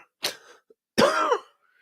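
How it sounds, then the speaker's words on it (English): Two coughs close by, a short one followed by a longer, harsher throat-clearing cough, with silence around them. "Please forgive my coughing."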